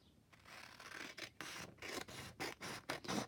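Scissors trim the edge of an old book page in a close, quiet crafting session, a series of soft, rhythmic snipping and rasping cuts that come one after another.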